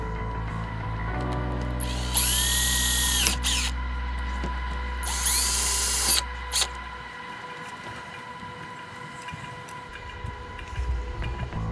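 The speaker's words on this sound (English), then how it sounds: "Now we'll drill down through the first piece, or the second piece I should say," Power drill boring holes for a roof top tent bracket: two sustained whining drill runs a few seconds each with a steady motor hum beneath, then quieter handling clicks and shuffling.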